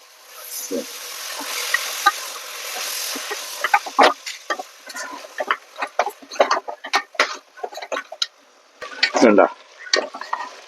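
Beef with salt being stirred in a pan on the stove: scraping stirs and clatters over a light sizzle, irregular and close, getting busier and louder toward the end, with no talking.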